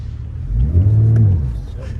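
A 2025 BMW M4 Competition xDrive convertible pulls away after a brake-boost launch. The engine note rises in pitch as it accelerates hard and then fades, loud and close, with a voice talking briefly over it.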